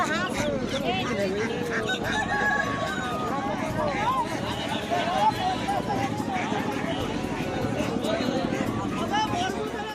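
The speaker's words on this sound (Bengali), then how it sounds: "এই সাইডে দেখতেই পাচ্ছ কত মুরগি আছে রাখা" Chickens cluck and call among the stalls of a busy village weekly haat market, under a constant murmur of crowd voices and people talking.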